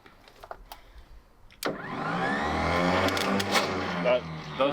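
The starter of a 1965 Fargo truck, long seized after sitting five years, kicks in abruptly and cranks with a steady loud whirring churn after a few soft clicks and taps, with voices talking over it.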